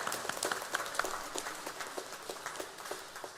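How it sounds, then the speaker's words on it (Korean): A church congregation claps together during a Sunday worship service, a steady, dense patter of many hands carrying on throughout at moderate loudness in a reverberant hall. "우리 주님께 영광의 박수 올려드립니다"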